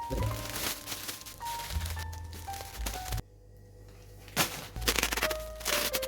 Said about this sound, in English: shape your plastic bag on it just like that